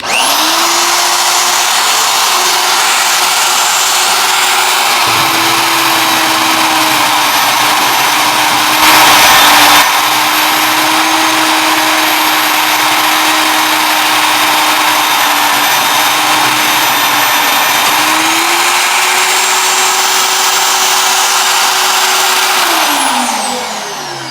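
A powerful Vevor magnetic drill press motor whines steadily at high pitch as it cuts into metal, its tone shifting slightly under load before spinning down.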